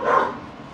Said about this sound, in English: they don't even know what they're barking at